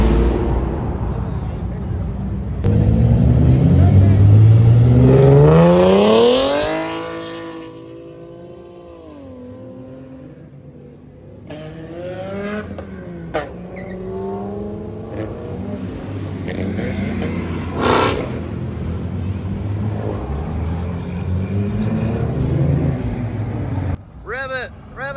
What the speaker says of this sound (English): Rev it, rev it, rev it, rev it.